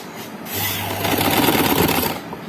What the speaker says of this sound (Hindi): इसी तरह से ये सिलाई कंप्लीट होगी